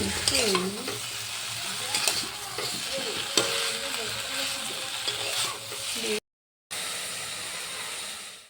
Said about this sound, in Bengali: এখানে আমি ফুলকপির ঝোল করছি।